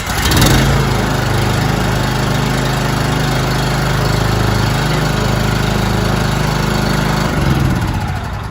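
A belt-drive AlumiMAX PRO unit's engine, likely a small gas engine, runs loud and close after starting, holding a steady, even drone with a buzzing mower-like tone throughout, then dipping slightly at the end.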